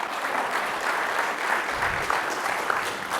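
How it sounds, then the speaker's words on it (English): A crowd gives a sustained round of applause, dense even clapping holding steady at moderate volume for the whole stretch with no voices on top. "Give him a round of applause."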